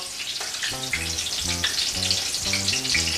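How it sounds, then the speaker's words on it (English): Steady crackling sizzle of schiacciatine dough frying in oil, loud and continuous, with a rhythmic low tone pulsing underneath throughout. "the frying part doesn't take too long"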